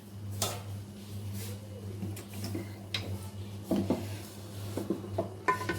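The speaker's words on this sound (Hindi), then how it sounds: "अब मैं इनका दम खोल के दिखाती हूँ।" Metal clatters and knocks as the lid comes off a pot of chicken biryani resting on dum, a few scattered clinks over a low steady hum, quiet and close, with no talk.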